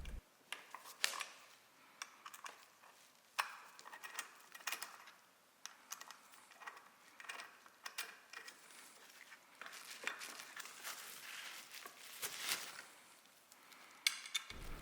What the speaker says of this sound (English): The holders are released by unscrewing the screws using appropriate L-wrench tool, like so.